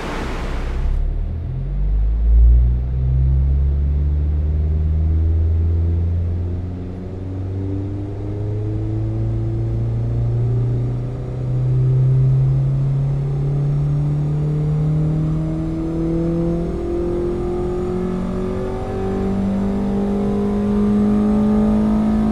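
Tuned car on a dynamometer run, its engine climbing steadily through a long, loud pull with rising pitch under load, heard close and alone with no talk.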